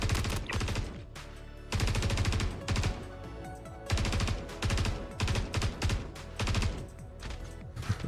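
Heavy sustained weapons fire in Star Citizen, loud rattling bursts that cut in and out, with long stretches of continuous rapid shots broken by brief gaps across several seconds.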